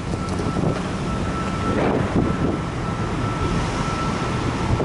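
Wind buffets a camera microphone outdoors beside a building in an upscale Miami neighbourhood, a steady loud rumbling roar with gusty surges throughout and no voices.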